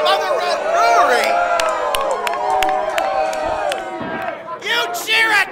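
A wrestling crowd at a brewery show roars and cheers loudly, with sharp whistles, shouts and scattered clapping, the noise dipping briefly before surging again.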